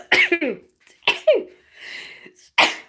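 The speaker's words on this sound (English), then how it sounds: "I'm going to sneeze." A single person sneezes close up, with a sharp explosive burst after a short intake of breath, followed by a brief breathy pause and another quick vocal burst.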